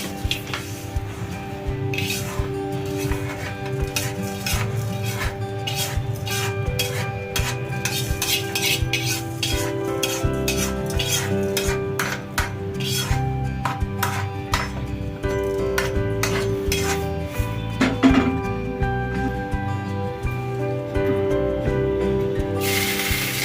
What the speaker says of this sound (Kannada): ಚೂರು ಕೊಬ್ಬರಿ ಎಣ್ಣೆ ಹಾಕ್ಕೊಳ್ಳಿ. ಹಾಗೆ ಇದು ಘಮ ಬರೋವರೆಗೂ ಹುರ್ಕೊಳ್ಳಿ.